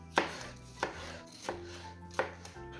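A kitchen knife slices vegetables into thick strips on a cutting board, four or five distinct chops spaced about half a second apart, close and clear with no talk.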